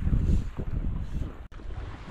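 Strong, gusty winter wind buffeting the microphone while fishing outdoors, a loud continuous roar with rumbling low-end bursts and a brief dropout midway, no speech.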